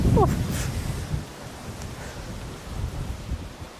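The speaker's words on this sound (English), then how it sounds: "Oh, it's windy here." Gusty wind buffets the microphone outdoors near a Norman church tower in Tissington, a broad rushing roar rising and falling, with a brief faint voice at the start.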